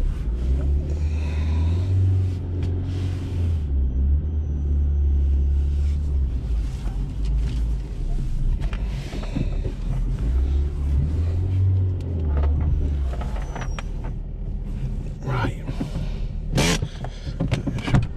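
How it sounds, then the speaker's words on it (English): A car with 113,000 miles is held at raised revs while being jump-started with a boost pack, its engine a steady low rumble that swells twice, heard up close amid wind noise with no talk. "Get the revs up."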